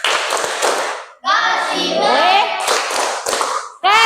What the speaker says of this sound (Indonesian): Kasih tepuk wow juga untuk kelompok yang ketiga